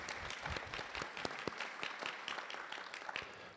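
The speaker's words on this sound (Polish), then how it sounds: "Też brawa, absolutnie" A crowd claps at the opening of a humanistic art gallery in Szczecin, steady applause heard from a distance with sharper individual claps standing out, fairly quiet overall.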